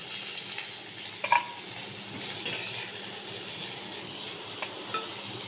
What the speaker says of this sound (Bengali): সজনে ডাঁটাগুলো ভাজা হয়ে গেলে তুলে রাখবো।